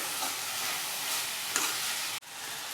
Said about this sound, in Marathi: तेलावर दोन मिनिट परतून घेऊया तेलाबरोबर या शेंगा दाणे व्यवस्थित भाजून घ्यायचे